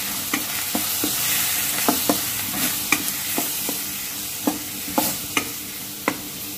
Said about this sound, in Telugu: ఈ పొడి చేసుకొని ఆ పొడి వేసుకొని మిక్స్ చేసుకోవాలి.